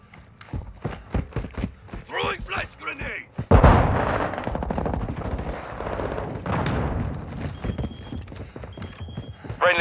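A flash grenade goes off in a shooter video game with a sharp, loud burst followed by a sustained noisy wash, amid rapid gunfire clatter and voiced in-game callouts.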